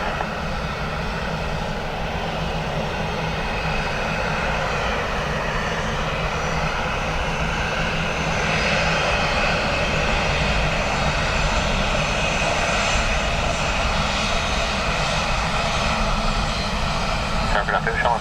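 A fixed-wing airliner lands on runway 28 left at Dublin Airport in gusty crosswinds, its engines making a loud, steady roar that swells slightly toward the end, with air traffic control radio voices over it.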